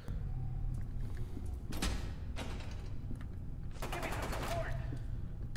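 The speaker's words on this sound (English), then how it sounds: "She says as people are actively shooting at me, how about you help?" Gunfire in the shooter game F.E.A.R. 2, with bursts of automatic weapon fire cracking repeatedly over a constant dense game backdrop, loudest around the middle and near the end.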